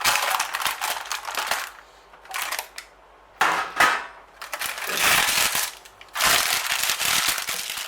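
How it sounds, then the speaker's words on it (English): A big kitchen knife chops through a set Florentine slice with chocolate, cutting it into small squares, giving repeated loud crunching, cracking bursts separated by brief pauses. "You can cut it any way you want. I like cutting it into little squares."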